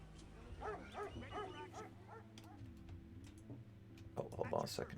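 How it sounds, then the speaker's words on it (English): Dogs bark a few times in the background while a person talks over Civilization 4 gameplay, with light tapping sounds toward the end. "sorry if you can hear my dogs barking again."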